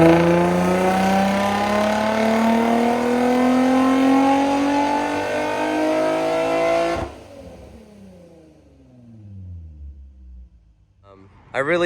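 An Infiniti G35 with a Motordyne exhaust, high-flow cats and a crackle tune revs hard, its engine note climbing for several seconds before cutting off abruptly and falling away, then a short blip at the end; loud and close.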